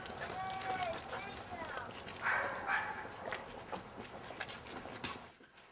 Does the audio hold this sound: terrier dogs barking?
yes